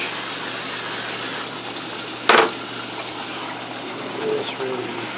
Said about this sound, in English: Spray your baking dish.